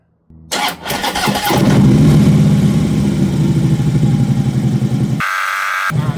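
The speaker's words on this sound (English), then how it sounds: "start the engine, and carefully check for oil leaks" A Harley-Davidson Road Glide with a 103 Twin Cam engine cranks and fires up loudly after brief silence, then settles into a steady, close, rumbling idle that continues alone.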